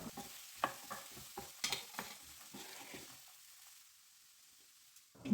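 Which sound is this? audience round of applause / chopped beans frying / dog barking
chopped beans frying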